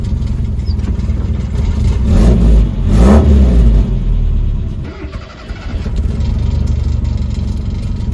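A Mazda B2000 pickup truck engine turns over, catches, and revs a couple of times before settling into a loud, rattly idle close by, with a rattly exhaust.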